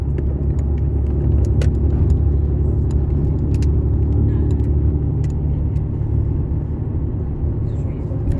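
A car crawls through a Warsaw traffic jam, its steady low engine and road rumble filling the cabin, with faint small clicks and rattles scattered over the drone.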